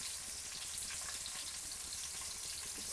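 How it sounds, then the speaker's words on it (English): Nine lamb meatballs browning in a frying pan give a steady, dense sizzle that holds even throughout, close and moderately loud, with no talking. "I've got 9 in the pan, so it's going to take me 3 sessions to brown all these meatballs"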